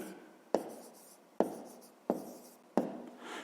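Handwriting a math solution with pen on paper: four distinct strokes, each starting with a sharp tap and fading into a short scratch, about one per second, close and quiet, with no speech.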